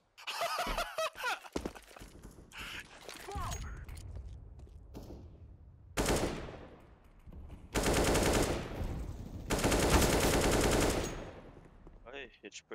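Bursts of rapid automatic gunfire in sprays, separated by short pauses and mechanical clicks, with faint voices early on.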